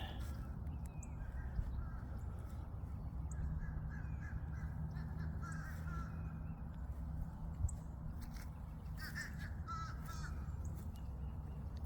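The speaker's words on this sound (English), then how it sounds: "Guess the crows are crowing, or ravens, don't know the difference." Crows cawing in a Florida garden on a morning outing, heard as distant, intermittent calls over a steady outdoor background hiss, faint and not close to the recorder.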